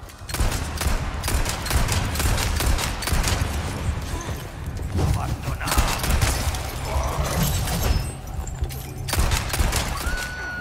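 Sustained gunfire from Leon's fight in Resident Evil 4 Remake on Professional mode, dense rapid shots and bursts filling the whole stretch at close, loud level, with occasional crashes and a brief pause before firing resumes.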